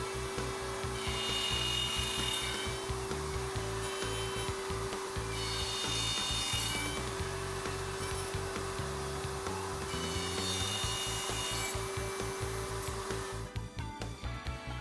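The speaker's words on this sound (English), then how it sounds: "It's important to note that the pins are routed in 2 steps." Router cutting dovetail pins in wood on a Leigh RTJ400 router table jig, a loud steady high whine with rhythmic chattering cuts as the workpiece passes, three bursts of cutting before the motor note changes near the end.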